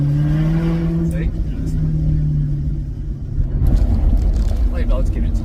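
A Maserati GranTurismo S engine held in first gear gives a steady low, droning rumble that swells toward the end, heard from inside the car under continuous talk from people aboard.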